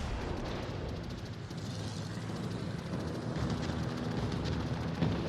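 Naval gunfire from the World of Warships game rumbles as a dense, steady barrage of booming shots and explosions, loud and continuous throughout, with no clear pauses.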